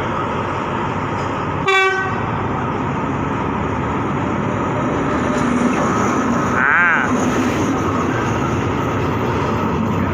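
Alstom C129 locomotive passing at a station with a steady loud rumble of wheels and engine throughout, one short horn toot near the start and a second, wavering horn sound midway, recorded close by with no talk.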